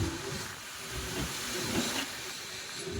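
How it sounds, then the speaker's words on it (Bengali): A passenger train travelling from Kolkata toward Malda Town slows down, giving a steady hiss of wheels and carriage noise with faint rail rumble, continuous and fairly close throughout. "ট্রেন স্লো করে দিয়েছে একেবারে।"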